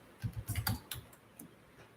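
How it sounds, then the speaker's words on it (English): Quick bursts of keystrokes on a computer keyboard, a cluster of close, crisp clicks followed by a few scattered taps, fairly quiet and alone. "I go to Google and I just type in circuit for a flashlight"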